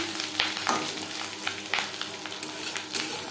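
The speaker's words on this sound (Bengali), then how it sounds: "2 চামচ রিফাইন্ড অয়েল গরম করে নিয়েছি। এবার দিয়ে দেবো ডিম।" Fish roe dropped into two spoons of hot refined oil, crackling and spitting in a steady close sizzle with a few sharper pops and spatter bursts.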